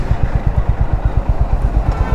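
A Honda CB350 motorcycle is ridden at a steady pace, its engine thumping in a loud, even, close rhythm of low pulses with no talk over it.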